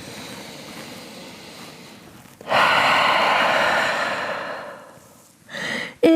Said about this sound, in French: On prend une immense respiration en chien tête en bas